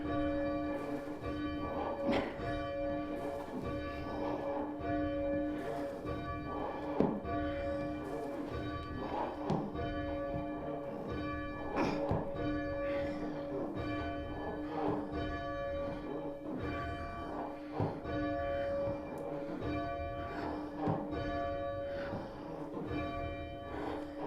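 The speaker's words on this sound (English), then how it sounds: "And the bell is ringing properly now." A church bell rings out in repeated, evenly spaced strokes, each leaving a long ringing hum, loud and close for the whole stretch with no talking.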